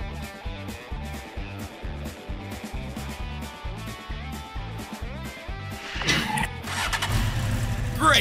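A cartoon car engine cranks with a rapid repeating chug for several seconds, then catches and revs up loudly into a steady roar.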